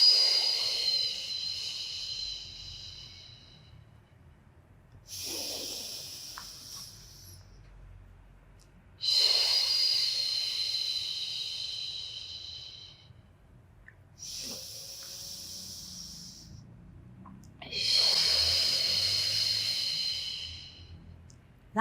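Slow, steady breaths during a beginner pre-Pilates mat workout, five long airy inhales and exhales spaced a few seconds apart, close and fairly quiet, with no talking.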